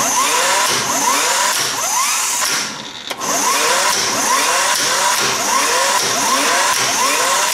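A power tool whines loudly and continuously while removing the pinion bolt on a Jeep's Dana 30 axle, its pitch rising and falling in repeated sweeps, with one brief pause partway through.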